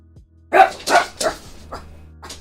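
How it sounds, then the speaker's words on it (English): A pet dog barking three quick, sharp woofs close by, followed by a couple of softer, trailing yips as the sound fades. "That's my dog."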